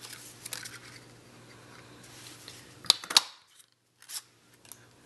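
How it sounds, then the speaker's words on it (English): Cardstock being cut or punched into a butterfly shape, with soft handling rustles, then two sharp close clicks or snips and a few quieter taps, no talking. "We're going to cut or punch out one butterfly out of each."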